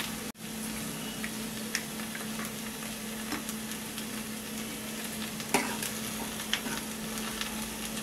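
Ash gourd dal with added salt and curry leaves cooks in an open pan, giving a steady low simmer with scattered soft stirring clinks and bubbling pops throughout, alone with no voices.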